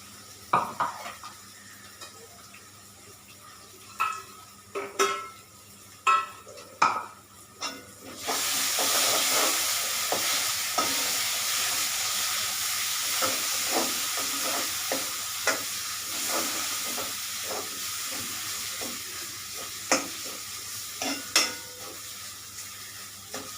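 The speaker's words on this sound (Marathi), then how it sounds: "वाटण चांगलं परतून घ्यायचं" Ground masala paste being fried for a red chickpea and brinjal dish: sharp spoon knocks against the pan, then a sustained loud sizzle with repeated scraping stirs and clinks, close up and wordless.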